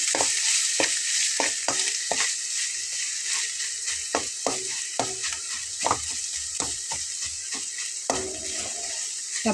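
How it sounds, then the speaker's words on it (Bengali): Bitter gourd with mustard paste fries in hot oil in a pan, a steady hiss of sizzling broken by frequent sharp scrapes and clinks of a spatula stirring, close and continuous with no talk. "এটাকে একদম কড়া করে ভেজে নিতে হবে"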